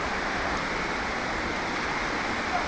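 Hulugan Falls in Laguna pours in a steady, even wash of broadband water noise that stays at a constant level throughout, with no voices over it.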